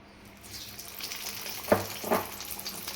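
Tomato bhajiya coated in batter dropped by spoon into hot oil, a frying hiss swelling up with two sharp bursts of sizzle as pieces go in.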